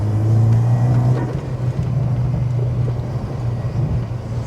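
A bagged Mk2 Seat Leon Cupra R runs close by with a deep, steady engine drone that rises slightly, then eases to a lower, rougher hum.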